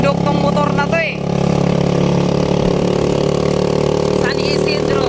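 Steady, close drone of a mountain-style motorcycle engine running along a highway, continuous throughout with people talking over it.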